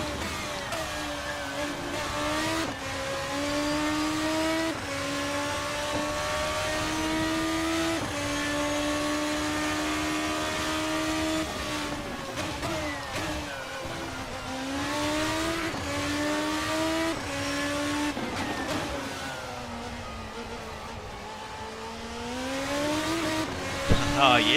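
Formula RSS 2 open-wheel race car in a racing sim game, a high engine note rising and falling through gear changes and corners, continuous, with someone talking over it.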